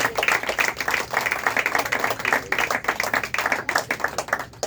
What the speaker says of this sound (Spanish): Un aplauso al Señor nuestro Dios.